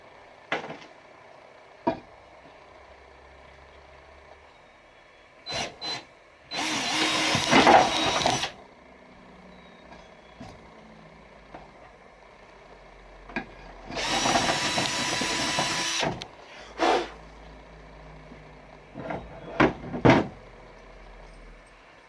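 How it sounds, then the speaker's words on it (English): A power drill bores the first hole into a boat hull for an ASSEND H10 trolling motor mount. Two loud bursts of drilling, each about two seconds long, are separated by quiet handling noises and knocks. "The first hole I'm drilling into the boat."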